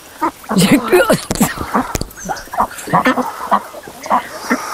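A hen and her chicks cluck and cheep close by in an irregular stream of short calls, with people talking alongside the birds.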